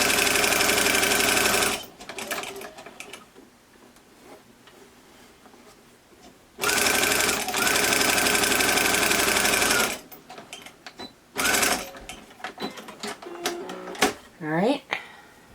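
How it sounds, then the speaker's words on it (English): Sewing machine back stitching a cloth face mask, loud rapid mechanical chatter in several bursts with pauses between, while a voice talks during the gaps. "So if you're only sewing, you need to back stitch this part."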